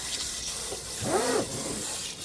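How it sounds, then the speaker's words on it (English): Kitchen sink tap spraying water onto rice in a bowl, a steady soft hiss of running water that swells briefly in the middle as the bowl fills. "spray the crap out of this rice. Get it filled with water."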